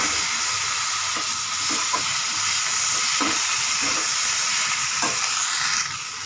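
Tomatoes sizzle and fry with turmeric in a pan for a capsicum curry, a steady close hiss with occasional soft stirring knocks throughout.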